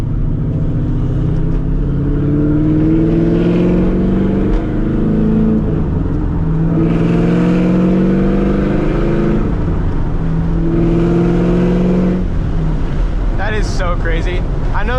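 A cammed C5 Corvette with straight-piped exhaust drives along, its raspy engine drone rising and falling through the revs over steady wind rush.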